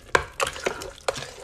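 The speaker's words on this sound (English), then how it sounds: "now that I'm stirring it" A hidden vegetable sauce with added bouillon being stirred in a pot, giving four quick, close scraping strokes of a spoon against the pan with a soft wet slosh and no talking.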